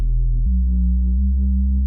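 Synthesizer bass with triangle-wave modulation: a loud, sustained deep electronic tone that steps down in pitch partway through and holds steady, with slight wavering movement and no other sounds.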